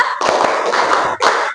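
Pupils in a classroom clap hands in unison five times to a teacher's count, a dense run of close group slaps with a short pause before the last burst.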